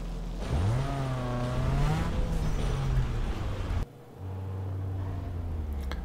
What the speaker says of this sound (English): Let's go tackle that monster drift.